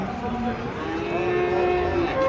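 A cow moos in a long, drawn-out, wavering bellow as it is unloaded from a swaying truck at the Pasar Pon livestock market in Ambarawa, set against a busy outdoor background.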